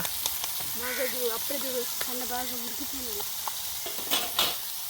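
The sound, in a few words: fish frying in oil, from a village fish fry recipe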